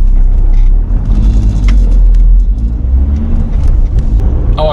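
A car drives past loud and close, a steady low rumble and engine whir filling the whole stretch with a slight rise in revs.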